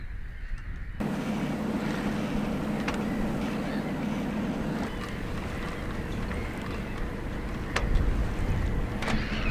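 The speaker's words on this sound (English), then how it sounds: "I'm gonna start the engine in a minute" A sailboat's engine runs steadily near a Danish harbour, a low continuous drone with water and wind noise layered over it, holding an even level throughout with a few brief sharper knocks.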